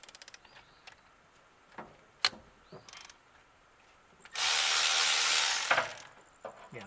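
A socket wrench works loose bolts on a 1969 Datsun 1300, giving scattered close metallic clicks and knocks, then a loud buzzing ratchet run lasting over a second before a few more clicks.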